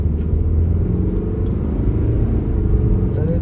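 A BMW 328d F30 diesel sedan accelerates, heard from inside as a steady, smooth low engine rumble with road noise, quiet and even throughout.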